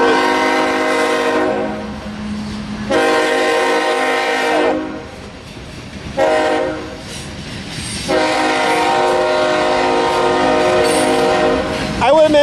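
A passing BNSF hopper coal train blows its horn in a sequence of loud long blasts separated by short breaks, over steady rumbling of the rolling cars.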